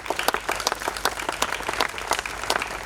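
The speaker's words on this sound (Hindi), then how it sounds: "मोहम्मद जानी के लिए जोरदार तालियां।" A theatre audience gives the play's music composer a burst of loud, dense clapping that keeps up evenly throughout.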